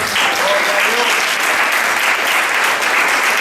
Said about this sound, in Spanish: Denle un aplauso al rey, iglesia.